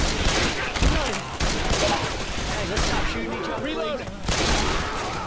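Dense, overlapping gunfire in a video game fills the whole stretch, loud and chaotic, with voices and shouting mixed in beneath the shots.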